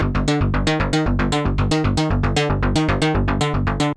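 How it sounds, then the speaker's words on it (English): Three Serum oscillators layered together, with an FM synth voice and an electric bass sample, pound out a dense, rapid train of identical gritty notes for 80s industrial music, loud and unaccompanied. "3 oscillators sounds like this together."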